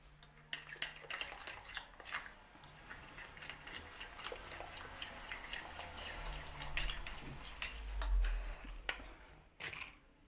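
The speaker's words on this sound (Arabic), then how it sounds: "غير نزيد نخلطو شويه بما يذوب" A utensil stirs melting chocolate in a bowl set over a bain-marie, clinking and scraping against the sides in a quick, irregular rhythm, close and steady for several seconds.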